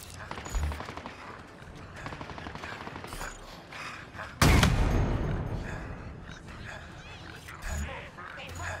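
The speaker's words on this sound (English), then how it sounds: "I got this skirmisher shooting at me." A Skirmisher fires on the player in Halo Infinite, giving rattling bursts of shots amid combat, with one loud, sharp blast midway and someone talking over the action.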